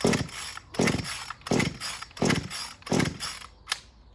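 Repeated pull-starts of an Echo 2511t chainsaw, six loud rasping cord pulls in a steady rhythm about every 0.7 seconds. The engine sputters but never catches.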